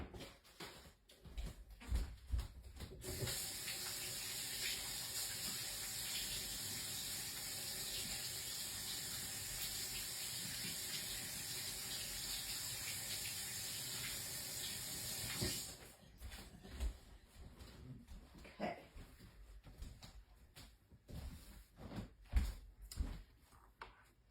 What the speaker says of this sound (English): I got to wash my hands again because I got that all over me